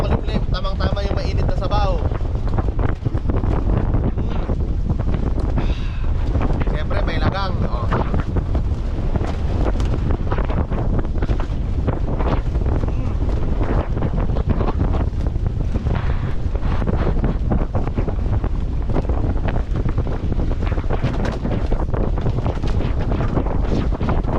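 Strong wind buffets the microphone in constant loud gusts, with a voice talking underneath the rumbling roar.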